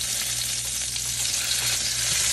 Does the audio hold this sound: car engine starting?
no